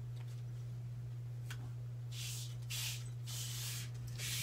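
A spray bottle of avocado dye water gives several quick bursts of fine hissing mist, close by, over a steady low electrical hum.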